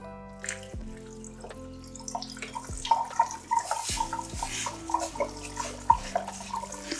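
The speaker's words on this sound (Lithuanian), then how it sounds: "Plauname taip intensyviai, bet nepažeidžiant ryžių, po šaltų vandeniu" Rice rinsed by hand under cold running tap water for homemade sushi, a steady trickle with scattered drips and sloshing splashes close by, with no voices.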